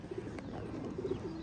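Soft, low pigeon coos from a red-eyed tournament racing pigeon, a few rounded calls close by against a steady, slightly noisy background.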